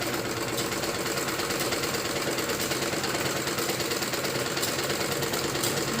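A sewing machine stitches fabric for a kachchha garment, running in a steady, even rapid mechanical chatter throughout, close and continuous without talk.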